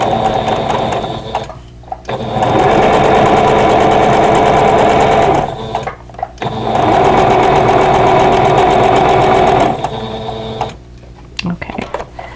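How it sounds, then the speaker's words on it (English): A sewing machine stitches quilt block pieces together for a vintage strawberry basket block, running in three loud steady whirring bursts separated by brief pauses. "so let's go ahead and sew these together."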